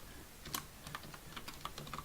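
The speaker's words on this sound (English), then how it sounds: "And so I'm going to type in" Soft, quick keystrokes on a computer keyboard, typing a title into an online genealogy form, with irregular light clicks close by and no talking.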